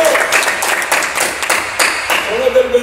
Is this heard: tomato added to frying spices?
no